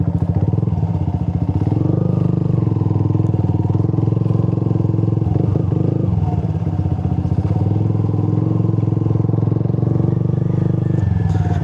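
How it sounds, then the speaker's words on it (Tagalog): A motorcycle engine drones steadily and loudly up close while riding off-road around Taal Lake, with rattles and thumps from the rough ride mixed in throughout. "Naging pang off-road na yung motor natin ah."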